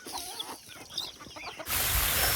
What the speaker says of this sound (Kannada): ಕೋಳಿಗಳ್ಗೆ ಹಾಕೋಣ ಅಂತ ಕೋಳಿಗಳು ಕರಿತಿದ್ದೀನಿ